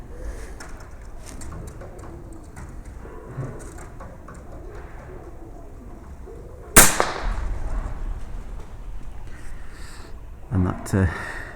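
A 25-year-old Air Arms S410 air rifle fires an NSA 12.5 g slug at an egg at about 33 yards. It gives one sharp, loud crack that stands out above quiet outdoor ambience with birds cooing, followed by a later knock.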